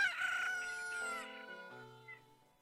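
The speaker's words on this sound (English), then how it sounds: "they'll start maturing into full-on cuckoo roosters." A cuckoo rooster crows in the video game Zelda Majora's Mask, one drawn-out cock-a-doodle-doo call that falls in pitch and fades, clear and fairly close, with no talking.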